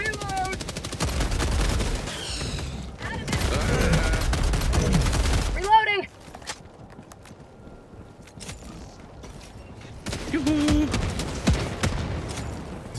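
Rapid automatic gunfire in Helldivers 2, dense and loud bursts for several seconds, then a lull with scattered mechanical clicks and game sounds before more shooting, with a voice speaking over parts of it.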